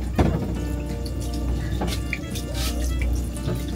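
Water runs and splashes steadily from a tap into a container, pouring over dry rice noodles (bihon) to soak them in a home kitchen, a continuous close rush with small clinks.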